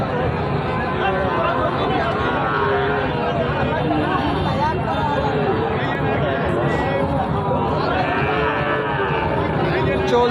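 Cattle low at a busy livestock market selling Sahiwal-breed bull calves, with moos rising from the steady hubbub of buyers and sellers chattering close by throughout.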